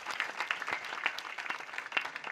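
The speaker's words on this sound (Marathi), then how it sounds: "त्यांच्यासाठी एकदा जोरदार टाळ्या वाजवा." An audience at a Marathi kirtan gives a round of applause, a fairly quiet, steady patter of many hands that continues throughout without any voices.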